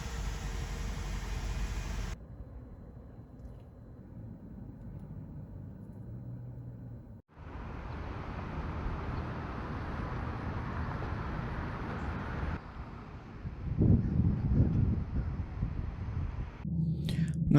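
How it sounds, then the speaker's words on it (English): A Toyota Corolla Hybrid out on the road, steady road and cabin noise that cuts between quieter and louder stretches, with a brief surge of rumble near the end. "So now we're going to take the Corolla on the road and see what the gas mileage is"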